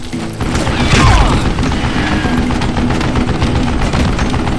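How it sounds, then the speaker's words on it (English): Gunfire and weapon handling in the Western shooter game Call of Juarez Gunslinger, a sustained loud barrage of shots with mechanical clatter and a booming impact early on, continuing densely throughout. "Oh, gotta reload."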